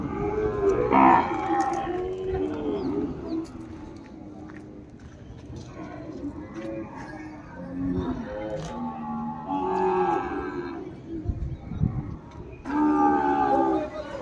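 At an open-air livestock market, cows and calves low several times at intervals, some near and some farther off, over a background of crowd noise and scattered voices.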